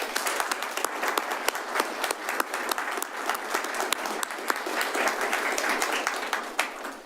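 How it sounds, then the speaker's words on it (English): An audience at a city's State of the City address applauds first responders with sustained, dense clapping from a large crowd, steady and even with no talking over it. "Let's give them a round of applause."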